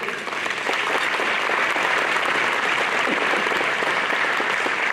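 Sustained applause from an audience at a 2019 Lebanon Wilson County Chamber awards dinner: dense, steady clapping from a large crowd that continues at full strength for about five seconds, with no talk on top.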